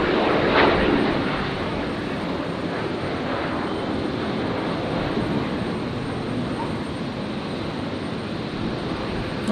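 A jet airliner landing on runway 01 right at Brisbane Airport makes a steady, moderately loud engine roar, slightly stronger at the start and then holding an even drone.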